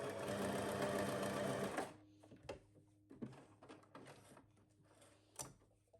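A sewing machine stitches a folded fabric scrunchie in a loud, steady run that stops abruptly, followed by scattered close clicks and thumps from handling the machine.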